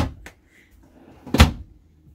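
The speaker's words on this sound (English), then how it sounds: "Drawer. And another drawer." Drawers and cupboard doors in a 2020 Rockwood Ultra Lite 2912BS travel trailer open and shut nearby, a light knock followed by a sharper, louder clack about a second later, with quiet pauses between.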